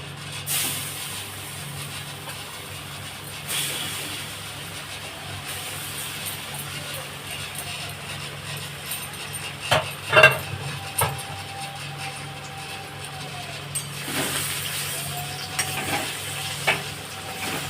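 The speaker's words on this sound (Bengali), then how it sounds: "তেলটা গরম হয়ে গেছে এবার আমি ডালটা দিয়ে দেবো" Dal lentil filling for dalpuri frying in hot mustard oil gives a steady, dense sizzle that runs the whole way, with a few sharper scrapes and clinks of a spatula against the pan.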